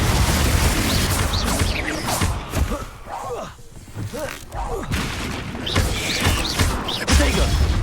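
In a Hogwarts Legacy battle, Confringo and Bombarda spells go off in a dense flurry of booming blasts, crackling bursts and crashes. Voices shout over the chaotic combat.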